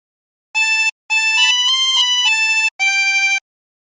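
A 16-hole tremolo harmonica plays a short phrase of Be Thou My Vision: four sustained reedy notes with brief breaths between them, close and clear, with no talking.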